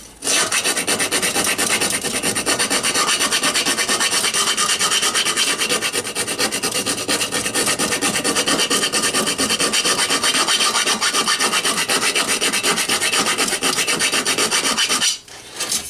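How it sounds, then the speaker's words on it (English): A hand file rasps steadily across a metal armour part, loud and close, in continuous rapid back-and-forth strokes for about fifteen seconds before stopping abruptly near the end. "So just get a file, tidy it up."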